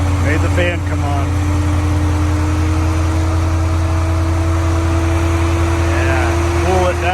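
A 2016 Chevrolet Corvette Z06 engine drones steadily at a low pitch with a constant mechanical hum, close and loud throughout, with brief bursts of voices near the start and end.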